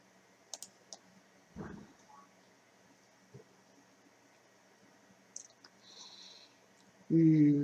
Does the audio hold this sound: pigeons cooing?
no